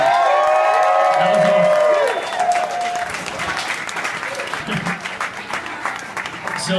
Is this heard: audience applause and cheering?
yes